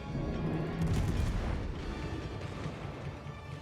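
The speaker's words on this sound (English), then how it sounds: "Oh, and we got finally a good salvo." A warship's gun salvo in a naval video game: a deep rumbling boom that swells and rolls on through the clip, loud and low, with no voice over it.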